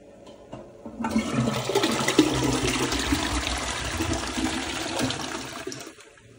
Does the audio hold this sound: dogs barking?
no